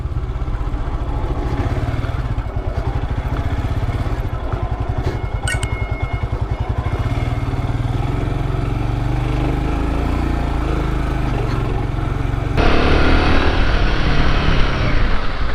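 A Royal Enfield Himalayan 450 motorcycle being ridden, its steady engine drone and low rumble continuous and close throughout, with wind and road noise and a rise in pitch near the end as it accelerates.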